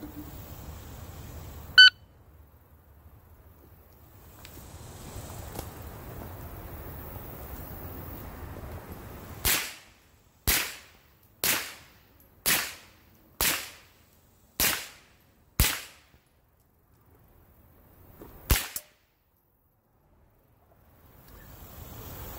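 Sharp cracks from a handgun fired near a Commander shot timer, with one faint shot early, a run of seven evenly spaced loud shots after a quiet stretch, then a lone final shot; no voices.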